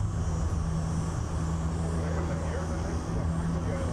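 Sunwing Boeing 737 MAX 8 airliner arriving at Toronto Pearson on runway 24L, a steady, loud engine roar with a low drone holding throughout, voices faintly present beneath it.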